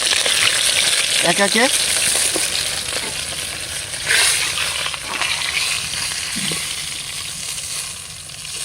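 Catla fish pieces frying in hot oil, with a steady loud sizzle and occasional stirring scrapes, and a brief spoken phrase near the start.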